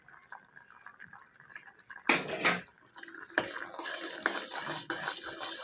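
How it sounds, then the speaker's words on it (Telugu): A spoon stirs ghee into a thickened mixture in a pan, scraping and clinking against the metal in a louder burst, then softer continuous stirring scrapes, close by with no talking. "నెయ్యి వేసుకున్న తర్వాత ఒకసారి బాగా కలుపుకోవాలండి."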